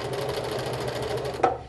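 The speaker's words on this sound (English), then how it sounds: "So I take this over to my sewing machine once I have it all lined up. Put it in here and sew my line." A sewing machine runs a quarter-inch seam in a quilting setting, a quick even mechanical stitching chatter at moderate volume that stops abruptly near the end, with no talking.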